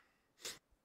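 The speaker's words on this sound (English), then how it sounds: "I need to sneeze." A single short sneeze, faint and close, sounds once out of near silence during a livestream.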